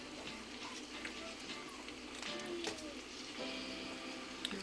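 Corned beef is mixed in a hot pan, a soft continuous sizzle with occasional scraping stirs, under a quiet voice talking.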